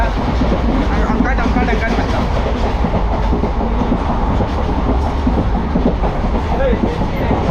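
A train rumbles along the rails toward Tirupati with a steady rhythmic clatter of wheels, loud and continuous, and a voice talks faintly beneath the noise.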